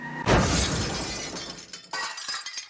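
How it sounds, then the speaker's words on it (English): A car crashes into the front of a dealership: a loud glass shatter bursts in, shards clatter and tinkle as it fades, then a second crash of breaking glass follows with debris settling. "floors the Hyundai and then smashes into the front of the dealership"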